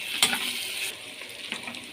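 Tadka of tempering spices sizzles and fries in hot oil for a mixed-vegetable curry, a soft, steady crackling hiss with a brief stir or clink near the start, faint and close with no voices.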